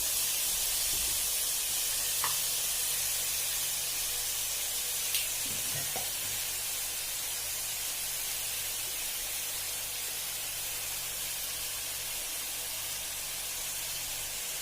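Onions with salt sizzling in a pan for mushroom masala, a steady hiss of frying under occasional faint clinks and stirring sounds, continuing unbroken without talk.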